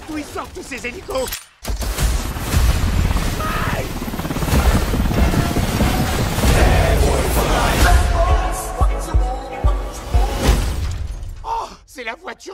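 Helicopters roar overhead in a busy action scene amid a dense mix of crashes, shattering and gunfire bursts, loud throughout, with people shouting over the din.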